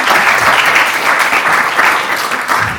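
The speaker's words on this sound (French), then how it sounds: "On peut vraiment vous applaudir" A large audience at a conference plenary session breaks into loud, sustained applause, a dense, steady wash of many hands clapping close by that continues for the whole stretch without pause.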